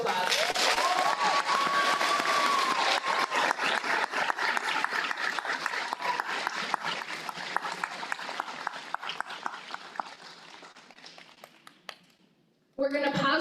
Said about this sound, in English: So please give our parents a round of applause.